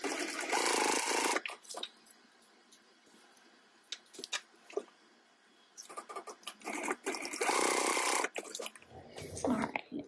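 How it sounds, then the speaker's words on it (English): A sewing machine stitches along drawn lines across a fabric tote bag, running in a few separate bursts of steady whirring with quieter pauses between them. "And then we are going to stitch right along those lines that we just drew."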